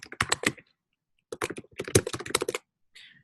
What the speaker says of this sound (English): I hate my keyboard right now.